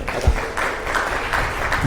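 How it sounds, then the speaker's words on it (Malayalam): Applause breaks out from an audience at a Christian prayer retreat in Chenganassery, a steady wash of many hands clapping that fills the room without a pause. "ഒരു വലിയ കൈയടി കൊടുത്ത സാറിന്."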